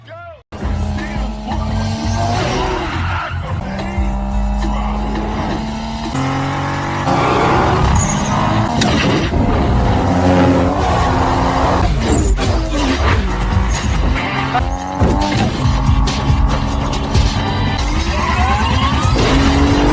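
Cars street racing in the film 2 Fast 2 Furious: roaring engines rev up and pass, with tires squealing and skidding, loud and busy under narration in Indonesian.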